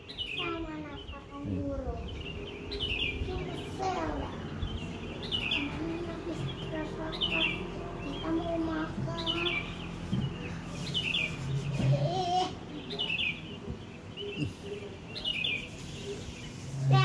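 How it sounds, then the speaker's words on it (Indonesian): Many birds sing and chirp in a steady outdoor chorus, with repeated high calls throughout, while people talk now and then underneath. "Itu suara burung, Syak."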